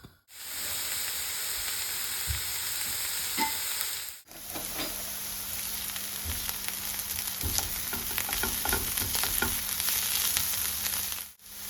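Onion and carrot fry in sunflower oil in a pan, giving a steady close sizzle with stirring scrapes and a brief break near the start.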